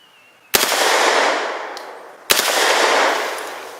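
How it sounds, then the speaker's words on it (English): HK MP5 9mm submachine gun fires two sharp, loud bursts outdoors, each a crack followed by a long rolling echo that fades away. "Let's throw a burst at that red 2-liter."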